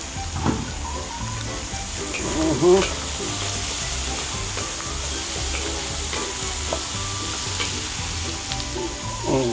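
Potatoes sautéing in a pan for a classic pork menudo at a street-food stall, a steady close sizzle with occasional stirring scrapes and clinks throughout, and a faint voice briefly in the background.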